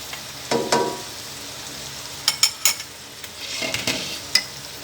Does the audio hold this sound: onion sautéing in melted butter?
yes